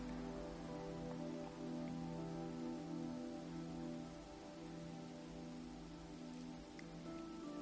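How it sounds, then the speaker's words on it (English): Raindrops falling on a beach, a steady soft patter of rain on the surface, even and continuous, heard close and alone with no voices. "Raindrops on the beach."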